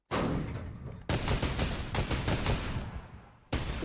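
Loud, rapid bursts of video game gunfire crackle in three sharp volleys, each one starting abruptly and then trailing off.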